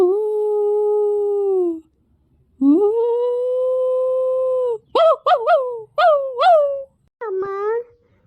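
A dog howls in long drawn-out wails, then breaks into a string of short yelping cries, loud and close with quiet gaps between.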